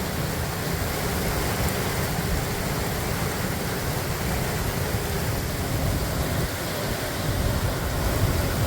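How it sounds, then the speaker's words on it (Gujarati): Heavy rain pours over a Gujarati village in a steady, dense roar that holds constant and close throughout, with no voices. "અમારા ગામમાં જોરદાર વરસાદ હો."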